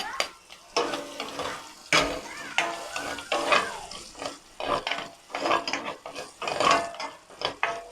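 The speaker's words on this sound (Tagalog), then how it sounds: "Start na tayo magisa. Lagyan na natin ang bawang." Garlic sizzles as it is sautéed in a pan, with a utensil stirring and scraping against the metal in repeated close strokes over the steady frying hiss.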